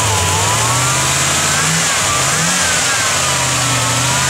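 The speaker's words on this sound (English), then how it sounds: "Rev the truck up a little bit." A 1956 Chevrolet 3100 pickup truck engine idles loudly up close, then revs up and down in a couple of rising surges before settling back.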